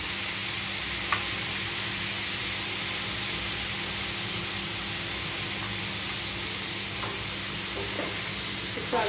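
Taro roots cooking with dried shrimp in a pan, a steady hissing sizzle throughout with a few faint scrapes of stirring, no talking.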